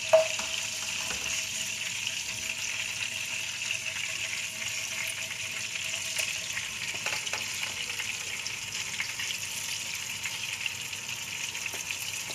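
Chopped onions frying in hot oil for a dhaba-style dal fry, a continuous soft hiss and crackle that stays even and close throughout, no one speaking.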